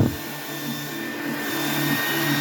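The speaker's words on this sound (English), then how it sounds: "This hair dryer is not real strong, so I've got it on high and with my cool button on." A weak hair dryer runs on high with the cool button held, blowing over acrylic paint with a continuous close, breathy motor whoosh and a faint whine, steady throughout with no voices.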